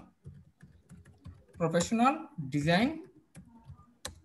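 Computer keyboard typing with steady rapid clicks, running under someone speaking in Bengali while he composes text for a Facebook marketing gig post.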